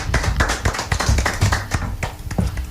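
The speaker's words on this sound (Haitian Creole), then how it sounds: "On applaudit." Audience applause at a live show, a steady patter of clapping hands filling the whole stretch, fairly close and loud with no talk over it.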